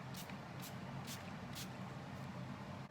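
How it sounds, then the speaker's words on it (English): Four short bursts of BH Cosmetics Studio Pro makeup setting spray hiss from a pump bottle in quick succession, evenly spaced, close and soft against a steady background hum. "I'm just going to spray it on"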